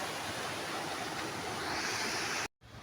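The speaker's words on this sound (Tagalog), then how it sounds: "Makikita nyo na yung ilog." River water flowing steadily as a continuous broadband rush, close and fairly loud, cutting off abruptly near the end.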